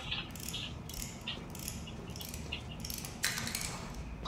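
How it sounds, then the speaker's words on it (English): An extractor fan is repaired in the Dirty Bomb video game, heard as steady mechanical ratcheting and gear-like clicking that repeats in quick pulses over a constant low background hum. "Now repair the extractor fan."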